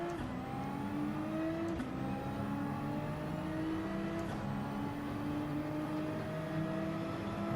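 Race cars launching off the start line in Gran Turismo 7, a Nissan GTR among them beside a BMW, engines roaring steadily and revving hard with layered rising whines, loud and continuous with no talk.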